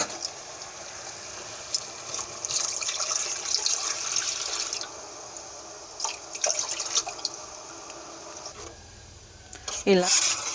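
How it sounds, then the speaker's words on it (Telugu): A cornflour and water mixture for halwa is poured into a pan, giving a soft, steady wet hiss and splashing that ends with a brief louder pour. "ఇప్పుడు మొక్కజొన్న పిండి అందులో పోసేద్దామండి."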